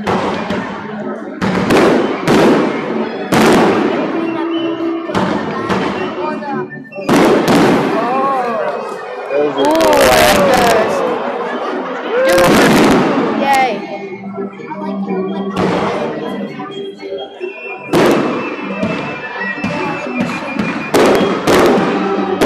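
Fireworks bursting loudly in repeated clusters of bangs and crackles over about twenty seconds, with whistling rising streaks between blasts and people's voices calling out beneath the noise.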